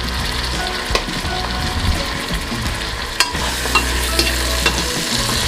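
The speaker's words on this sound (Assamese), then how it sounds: "আৰু এইখিনি মই ভালকৈ ভাজি ল'ম 3 পৰা 4 মিনিটমান সময়" Tomatoes with turmeric and salt frying in a pan for an Assamese home-style egg biryani, giving a steady close sizzle with occasional scraping clicks of stirring.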